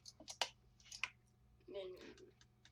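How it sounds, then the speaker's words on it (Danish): A computer keyboard clicks with a few quick, close keystrokes, followed by a softer smeared rattle. Everything is brief and fairly faint against a low background hum. "Jeg undskylder højt for, hvis min tastatur larmer lidt."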